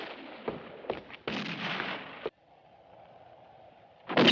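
Gunfire in a French-dubbed western action film: a few loud sharp reports and bursts in quick succession, then a lull with a low steady hum before another loud blast at the end.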